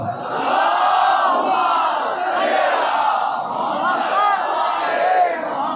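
In an imam bargah during a Jashan e Sadqain gathering, a crowd of worshippers recites salawat together, one loud, swelling chorus of voices held for several seconds.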